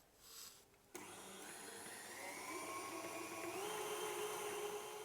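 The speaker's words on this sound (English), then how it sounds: "So you simply just break this in to your mixer and blend it all together." An electric mixer whirs steadily while blending an egg into creamed butter and sugar for chocolate chip cookie dough. A short rustle comes first, then a continuous motor whine that climbs slightly in pitch and stays close and even.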